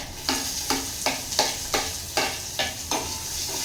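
Finely chopped onion sizzles in hot oil with chillies during tempering, a steady loud frying hiss broken by regular stirring scrapes about every half second.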